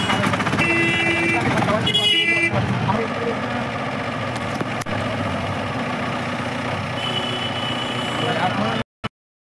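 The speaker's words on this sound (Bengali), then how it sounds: "এত গাড়ি টাড়ি চলছে" Steady road traffic with idling and passing engines, a constant low rumble close by, cutting off abruptly near the end.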